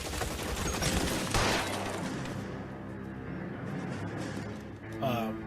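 A dense, sustained burst of gunfire from a shootout in L.A. Noire, loud and near, rattling on without pause for several seconds.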